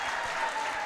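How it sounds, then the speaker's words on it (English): Student section applauding at a high school varsity volleyball match as a player is subbed off on senior day, a brief steady burst of clapping filling the gym. "Gives a chance to the student section to applaud him"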